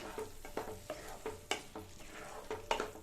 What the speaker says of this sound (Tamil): இப்போ நல்லா ஒன்றா மிக்ஸ் பண்ணி விட்டுறலாம்.